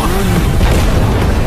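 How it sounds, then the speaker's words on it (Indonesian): A deep, rumbling boom fills the clip, heavy low-end energy sustained throughout like a close, loud explosion with lingering roar. "ledakan terjadi."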